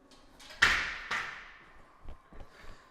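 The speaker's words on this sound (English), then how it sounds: "The noise will go away when the bolts are done up." Loose, over-long suspension bolts knock on a scratch-built overland trailer: two sharp metallic clanks ring out and decay, followed by a few softer, duller thuds.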